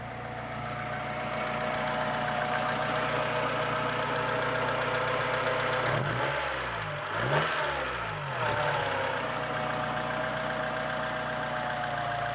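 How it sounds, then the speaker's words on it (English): A car engine runs steadily at idle throughout, with a brief surge and rough wobble midway as it catches or is blipped, then settles back to a constant close hum. "I'll start the car up real quick."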